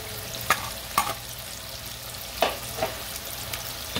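Ackee sizzles in a frying pan with a soft steady crackle, broken by a few sharp clicks of stirring utensils against the pan.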